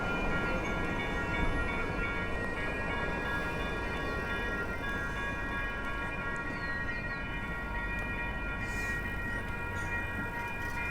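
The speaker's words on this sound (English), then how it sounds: "But the freight train is just sitting on the tracks." A freight train sits on the tracks at a crossing in Portland, Oregon, giving a steady droning rumble with a sustained tonal whine that runs unchanged throughout, with no voices.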